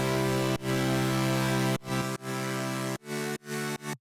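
A bright, buzzy supersaw stack from Serum, unprocessed and with its EQ switched off, holds a loud, dense chord for almost two seconds, then breaks into short chopped repeats.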